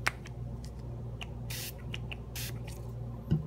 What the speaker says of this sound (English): I'll go ahead and shake it up and just spray some